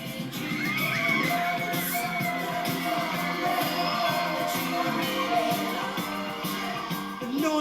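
A packed crowd of fans, many sounding like young girls, screams and shrieks continuously at a British boy band concert, a loud, dense, unbroken wall of cheering and squealing with no speech.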